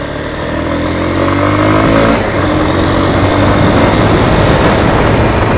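A Honda Hornet 2.0 motorcycle rides on a road with a steady, loud engine drone that eases slightly as the bike slows, continuous and close throughout, with no voices.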